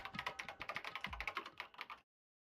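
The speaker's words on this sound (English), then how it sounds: "Kyoko began typing, the words appearing as fast as I could read them." Rapid keystrokes on a computer keyboard from the video game Danganronpa: Trigger Happy Havoc, a dense, even run of clicks lasting about two seconds before stopping abruptly.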